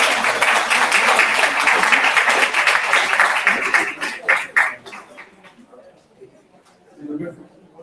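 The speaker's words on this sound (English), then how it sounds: "can we give a round of applause to this beautiful Bridge Art Gallery?" An audience at a celebration-of-life gathering in an art gallery gives a loud round of applause that swells, then tapers into scattered claps. Voices are heard as it fades.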